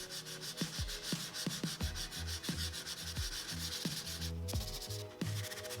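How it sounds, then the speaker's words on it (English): Sandpaper scratches back and forth by hand along the grain of a wooden furniture foot on a stopped lathe, in a steady rhythm of close, rasping strokes, with no voices. "turn off the lathe and sand with the grain"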